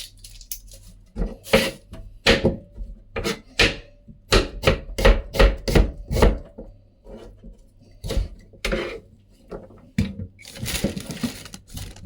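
An onion being chopped with a knife on a cutting board in a home kitchen, a quick series of sharp, close knocks in bursts with short pauses between them, and no talking.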